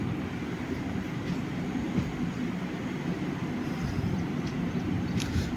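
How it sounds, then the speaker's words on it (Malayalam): The Guruvayur–Thrissur passenger train runs with a steady low rumble and rolling rail noise, fairly quiet and continuous, with a few faint metallic clicks near the end. "അത് ഗുരുവായൂർ തൃശ്ശൂർ പാസഞ്ചർ."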